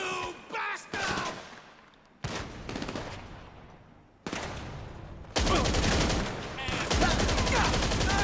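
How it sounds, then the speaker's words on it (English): Gunfire from a magazine dump in GTA 5 Online, loud bursts of rapid automatic shots in several separate volleys, the last one long and sustained, with brief pauses between. "Mag dump."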